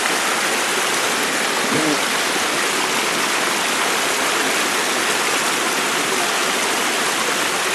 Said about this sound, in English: That's the rest of the river coming down from there.